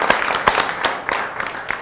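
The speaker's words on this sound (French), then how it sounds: "Je crois qu'on peut vous applaudir parce que ça n'a pas été facile" Light applause from a small audience on a French TV programme, a handful of distinct, fairly close claps spaced out unevenly and fading toward the end.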